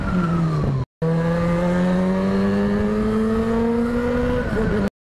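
A car pulls out of a parking spot against traffic onto the road, its engine revving up loud and close in a rising drone with a brief break, heard from a motorcycle rider's viewpoint.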